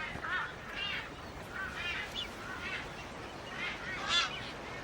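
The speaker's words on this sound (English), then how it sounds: "These are marsh boobies." Colony of marsh boobies, seabirds on Wolf Island, calling continuously: many overlapping honking, goose-like cries rising and falling over a constant wind-like hiss, moderately distant, with no talk.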